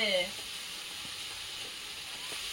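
Prawns rubbed with turmeric and salt hit a pan of cooking greens, giving a steady, close hiss of sizzling oil with a brief louder crackle at the start, alone without talk.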